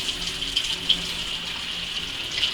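Watercolor paper being soaked on both sides with cold running water, a steady hissing stream splashing close by, fairly even throughout with a few brighter spatters and no voices.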